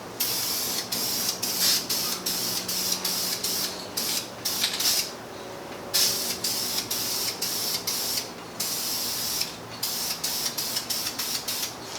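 Spray can applying a final coat of satin-to-flat black paint to an Evo 8 steering wheel face, heard as a series of close, loud hissing bursts separated by brief pauses.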